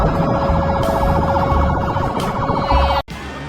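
A fire truck's loud, rapid warbling siren blares close by, then cuts off abruptly near the end.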